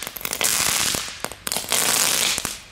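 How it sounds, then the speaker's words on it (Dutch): Firecrackers go off in the snow in two rapid crackling bursts, each a dense run of sharp pops close and loud, separated by a short break. "Dit wordt de titel, knetter scheten in de sneeuw."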